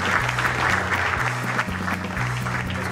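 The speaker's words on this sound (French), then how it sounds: "Vous pouvez l'applaudir, il est champion." An audience applauds a Supersport world champion at an event in Mont de Marsan, a dense, continuous clapping that stays steady, mixed with a repeating low musical tone underneath.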